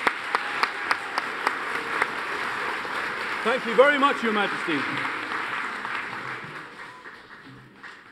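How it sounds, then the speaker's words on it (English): Crowd applause for a newly knighted mayor at a mock royal ceremony in Norwich, starting with a few distinct claps that swell into a fuller round while a voice speaks over it, then slowly fading. "Round of applause for the newly knighted mayor."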